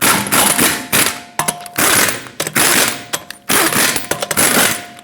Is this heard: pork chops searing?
no